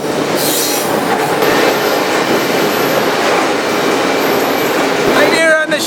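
An intermodal freight train rolls past close by without slowing, a loud, continuous rumble of wheels on rails with squealing and rhythmic clatter, and a voice speaks over it.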